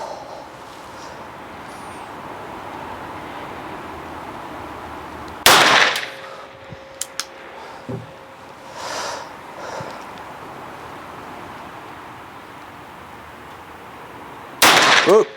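Revolver shots on an outdoor shooting range: two sharp, loud reports about nine seconds apart, each a sudden broadband crack, with faint rustles and small clicks between them.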